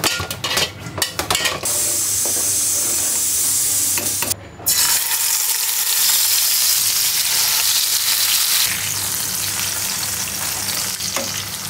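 Fish fries in plenty of hot oil with a loud, dense, continuous sizzle close by. It cuts out for a moment partway through, then carries on strongly.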